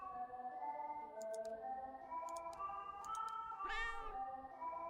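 A cat meows in the video game Tokyo Dark, a drawn-out tonal call over a steady ambient game score, with light clicking tones and a rising whine near the end.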